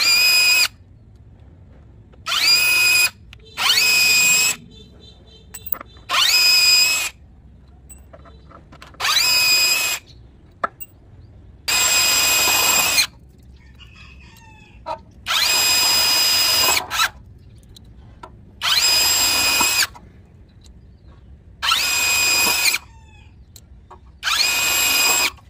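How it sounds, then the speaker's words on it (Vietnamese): A Dekton RH-2603 cordless rotary hammer, fitted with a screwdriver adapter, drives screws into sheet-metal roofing in about ten loud, close whirring bursts of one to two seconds each, separated by short pauses. "Bây giờ em sẽ test sang cái chức năng bắn vít bắn tôn các nhá."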